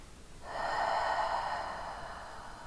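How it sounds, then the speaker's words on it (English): A person lying on their back during a gentle bed workout takes one deep breath in through the nose, a breathy rush that swells and then slowly fades. "Breathe deeply in and out"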